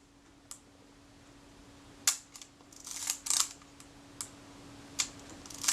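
Kodak Retina IIIC camera, partly disassembled, giving small dry mechanical clicks from its shutter release and film advance: a few scattered sharp ticks, then a denser cluster of rattling clicks, close and quiet over a faint steady hum.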